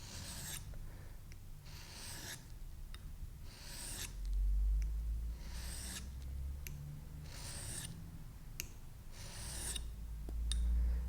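A single bevel broadhead is stroked across a 1000-grit sharpening stone in regular rasping passes, about eight scrapes spaced roughly every second and a half, close and fairly quiet, with occasional low thumps.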